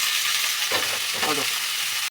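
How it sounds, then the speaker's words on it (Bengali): Ridge gourd frying lightly in a little oil gives a steady, close sizzling hiss throughout, with a couple of brief louder crackles partway through and no voices. "ঝিঙেটা ভেজে নেবো হালকা করে"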